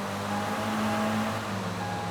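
A bus rumbles past at moderate distance, a steady low engine drone with a faint hum, no voices over it.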